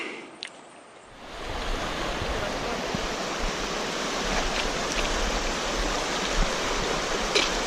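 River water rushes loudly during a river crossing in the Rocky Mountains: a broad, steady roar that swells after a quiet first second and holds close and constant, with a few faint knocks.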